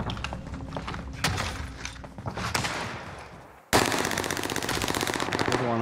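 Gunfire in Call of Duty Warzone, with sniper shots among it: sharp, loud reports and scattered blasts, then an abrupt switch to dense, continuous rapid fire that carries on to the end.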